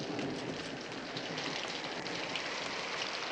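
Steady rain pours down evenly on a surface, a dense, continuous hiss with no pauses, heard alone with no voices.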